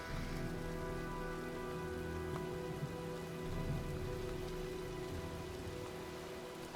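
Steady rain pours through a storm in the video game Heavy Rain, a dense, even hiss of drops hitting surfaces that holds constant and loud for the whole stretch, with a faint low drone beneath and no voices.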